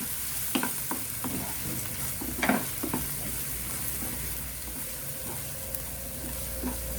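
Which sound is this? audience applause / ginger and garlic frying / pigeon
ginger and garlic frying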